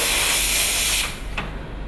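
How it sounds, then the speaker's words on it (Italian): An espresso machine steam wand being purged, a loud, near, continuous hiss of dry steam for about a second that cuts off abruptly, followed by a brief sputter. "In questo modo flusso la lancia finché il vapore che esce non risulta essere secco."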